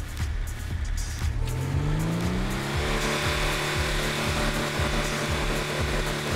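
A Technical vehicle in a video game driving at 150 km/h, with a steady loud engine drone that climbs in pitch through the first seconds and then settles into a repeating pulsing cycle, with no talking.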